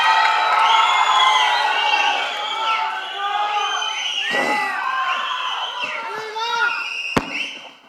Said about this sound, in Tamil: Please, ஒரு பெரிய கைத்தட்டல். Can we have STR அவர்கள் on stage, please?